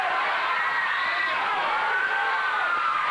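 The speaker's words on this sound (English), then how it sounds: "He was encouraged by the crowd." Crowd at a 1987 CWA Memphis professional wrestling match cheering and shouting encouragement, a steady dense roar filling the whole moment with no pauses.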